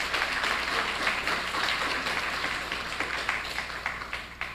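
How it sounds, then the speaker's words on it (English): An audience applauds steadily, a dense crowd clapping that begins to taper off toward the end. "I think we need to give them a round of applause."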